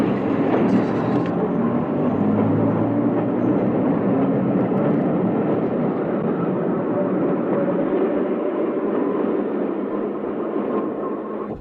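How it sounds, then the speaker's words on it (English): A train departing from a station rumbles continuously in a steady, loud roar of wheels and engine noise, holding constant throughout without pausing. "Attention, départ du train."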